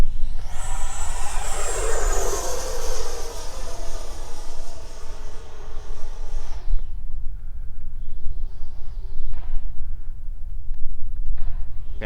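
An FMS 18th Anniversary Edition Avanti RC jet with a 90mm electric ducted fan makes a fast, loud pass, its high-pitched turbine-like whoosh falling in pitch over several seconds before fading to a distant hum.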